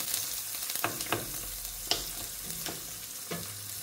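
About four tablespoons of onion dropped into hot oil with garlic already browned in the pan, cooked for a beef tripe bhuna. A soft steady sizzle is broken by several sharp scraping stirs of a spatula at an uneven pace.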